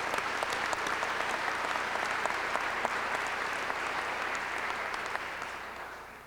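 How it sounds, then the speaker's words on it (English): A graduation audience breaks into dense, sustained applause, loud and even across the hall, slowly tapering toward the end. "You deserve a round of applause"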